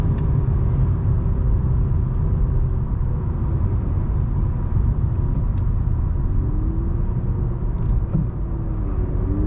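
Steady road rumble and engine drone inside a 2023 Honda Accord Sport with a CVT, loud and continuous, with faint shifts in engine pitch as it downshifts, no talking.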